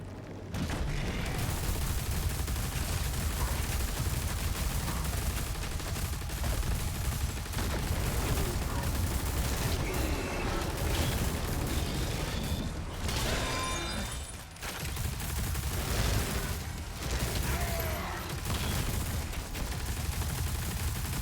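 Combat in Doom: The Dark Ages: dense, continuous rapid gunfire and explosive impacts fill the scene with mechanical clanks, loud and relentless, with brief dips in the barrage.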